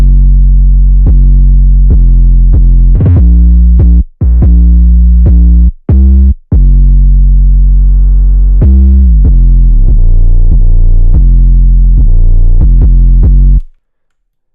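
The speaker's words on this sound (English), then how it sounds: "when the second 808 pattern hits, it hits 10 times harder because it's got these long sustained notes" Heavily distorted 808 bass for a beat plays alone and loud, holding long sustained notes with pitch slides, quick rolls and varied hit strengths, with a couple of brief dropouts before cutting off near the end.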